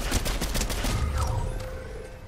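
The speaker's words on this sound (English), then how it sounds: "Shoot, we need to shoot" Rapid bursts of gunfire in the Fortnite video game ring out close and loud through the first second or so, then give way to a quieter game background.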